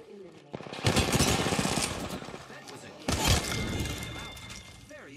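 Gunfire from the battle royale video game Apex Legends: two dense, loud bursts of rapid automatic shots, close and harsh.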